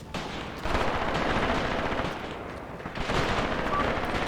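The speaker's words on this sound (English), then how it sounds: "enemy position is still putting up some resistance with their DP machine gun" A DP machine gun rattling in the Graviteam Tactics war game during forest fighting, sustained bursts of automatic fire over a thick battle din that surges twice, fairly distant and muffled.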